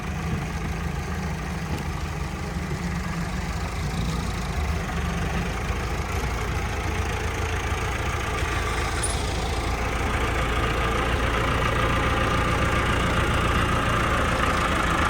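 A tractor engine idles in a continuous low, rumbling drone, loud and steady throughout, with no pauses or revving.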